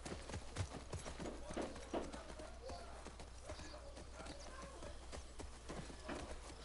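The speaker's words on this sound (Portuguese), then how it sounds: "Deixa eu dirigir aqui o cavalo." Video game hooves of a horse clop in a quick, uneven rhythm in The Last of Us Part II over a low constant hum, faint and somewhat distant, with a voice talking now and then.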